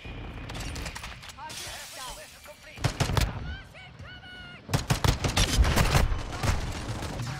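Rapid bursts of automatic shotgun fire in Modern Warfare 2, loud and close, with clustered shots in the middle and a dense run near the end, mixed with game sound effects and a talking voice.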